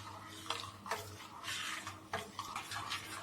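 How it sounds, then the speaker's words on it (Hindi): A spoon scrapes and knocks steadily against a pan while thick rice flour batter is stirred, a continuous clattering with sharper taps, close and alone with no talk. "आप इसको नीचे तक चलाते रहिए ऐसे ही लगातार।"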